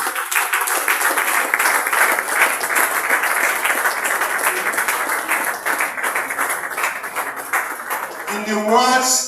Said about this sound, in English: I think the prof deserves a better round of applause.